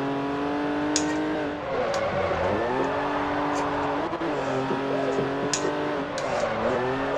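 A drift car in Forza Horizon 4 revs hard and steadily, engine pitch rising and dipping through gear shifts with brief tire-squeal touches, loud and close throughout.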